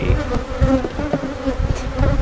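Honey bees swarm around a hive with a strong single deep brood chamber, their dense buzzing continuous and loud close by, with no one talking.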